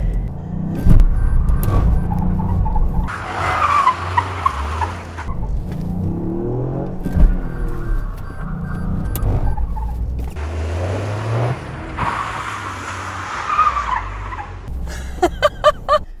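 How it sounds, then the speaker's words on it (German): Toyota GR Yaris (261 PS) driven hard and drifted on a track: engine revs rising and falling with tire squeal and skidding through slides, a continuous loud close rumble with no talk. "Es ist wirklich ein absolut tracktaugliches Fahrzeug, ein drifttaugliches Fahrzeug"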